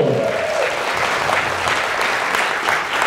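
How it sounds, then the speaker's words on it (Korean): Studio audience applause during a Korean talk show, steady clapping that fills the whole stretch at a loud, even level with a brief cheer near the start. "우리 박수 한번 부탁드리겠습니다"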